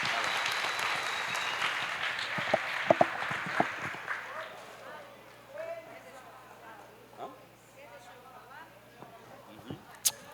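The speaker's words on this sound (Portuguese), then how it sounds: "Aplaude ao Jesus." Church congregation applause at an anniversary hymn-singing evening, a burst of clapping that fades after a few seconds, followed by a quieter room with scattered voices and a few sharp knocks.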